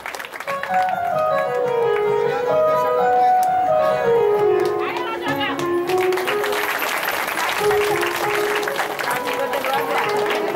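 Audience applause rings out through a Marathi kirtan gathering, steady crowd clapping over harmonium-like tones and singing, loud and sustained, with voices carrying on alongside.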